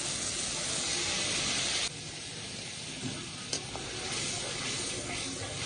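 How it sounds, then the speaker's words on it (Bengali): Potatoes frying with spices in a pan, a steady close sizzle and hiss that drops slightly partway through, with faint stirring scrapes. "এই পর্যায়ে আলুগুলো দিয়ে দেব এগুলো দিয়ে মশলার সঙ্গে বেশ সময় ধরে একটু কষাবো"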